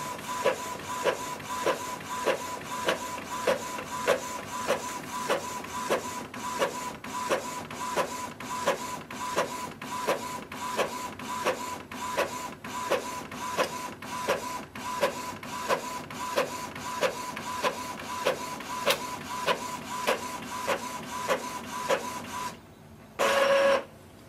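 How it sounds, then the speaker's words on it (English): An Epson EcoTank ET-2710 inkjet printer runs a document job, its print head shuttling in a steady rhythmic series of clicks and whirring passes, close and fairly quiet, ending with a short louder feed burst. "If you want to do print or scan, I can show you the print."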